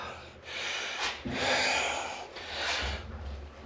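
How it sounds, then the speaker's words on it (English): Heavy breathing close to the microphone after strenuous work flipping a pop-up camper's axle, a few deep inhales and exhales in slow succession, rough and airy. "I'm out of breath, guys, so hear that heavy breathing."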